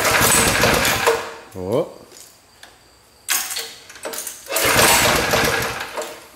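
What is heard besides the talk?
Ariens tractor engine starting up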